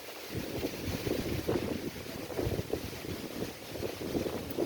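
Strong wind gusts buffet the microphone on the water, a steady low rumbling roar with fluttering bursts throughout and no voices.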